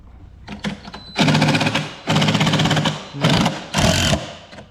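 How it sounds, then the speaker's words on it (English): Power drill boring into ground beside a pre-fab metal building, running in four loud sustained bursts of grinding whine separated by short pauses, close up with no talk. "Push down hard. Might need to get up on your knees and put weight on the back of the drill."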